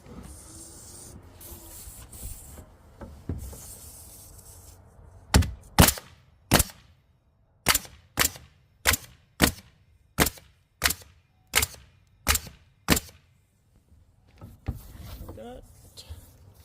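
A hammer drives 2-inch nails into the wood of a gambrel shed truss, about a dozen sharp, loud strikes landing in an even, steady rhythm after some quieter shuffling.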